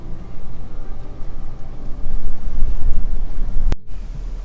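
Blustery wind buffets the microphone at exposed Bristol Point, Jervis Bay, a continuous broadband roar that swells louder midway, with surf noise mixed in and a sharp click near the end.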